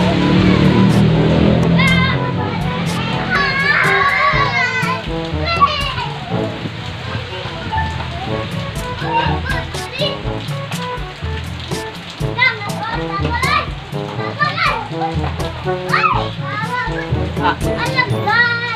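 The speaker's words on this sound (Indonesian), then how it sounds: "kita lagi main hujan" Children play and shout in the rain outdoors, their voices and splashing spread over a steady wash of rainfall; the lively, continuous scene stays busy with overlapping kid chatter throughout.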